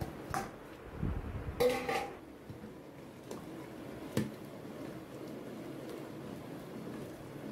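Boiled corn kernels are stirred into a thick gravy in a pot: a few scattered, soft clinks and scrapes of a spoon against metal with a wet squish, fairly quiet with long pauses, and no talking.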